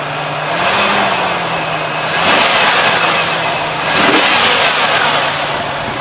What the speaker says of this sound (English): Alright, let's rev it